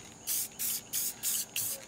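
Aerosol spray paint going on in thin coats over an Amiga external floppy drive case: five short, even hissing bursts with brief pauses between, close and alone.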